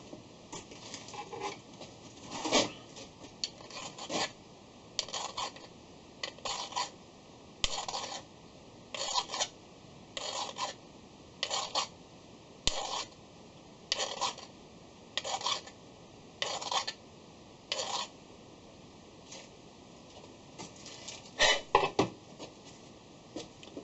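A metal file rasps rhythmically across a threaded nut with a 2 mm double-start thread on a metal lathe, about a dozen short regular strokes with brief pauses between, fairly quiet and without talking.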